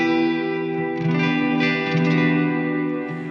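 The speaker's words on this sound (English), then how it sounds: "So you can play the reverb alone" Electric guitar played through a vintage-style Strymon dual reverb and tremolo pedal with only the reverb engaged, sustained chords ringing with a lush wash of ambience and steady level, no voices.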